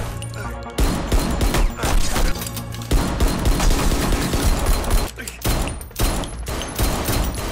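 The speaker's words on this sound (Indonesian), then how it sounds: "Dengan terpaksa, Stanwood melepaskan tembakan. Dan aksi tembak-tembakan pun terjadi." Heavy gunfire shootout from the action film Welcome to the Punch: loud bursts of rapid shots and booming impacts, continuous volleys with brief pauses, close and intense.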